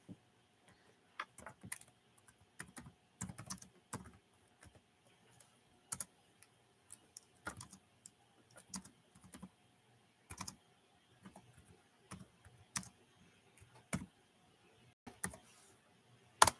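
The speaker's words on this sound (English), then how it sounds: "Let me get it typed in before you claim." Slow, irregular typing on a computer keyboard: sparse clusters of crisp key clicks with pauses between them, fairly quiet and close, with no talking.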